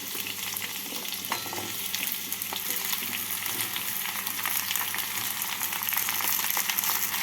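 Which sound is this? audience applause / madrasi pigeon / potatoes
potatoes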